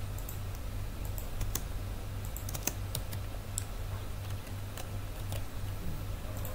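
Code is typed on a computer keyboard in quick irregular bursts of crisp key clicks, close and moderately quiet over a low steady hum.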